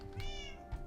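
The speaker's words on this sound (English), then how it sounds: "Meow. I have a cat." A cat meows in the Minecraft video game, a single drawn-out, tonal meow standing clear over steady background game ambience.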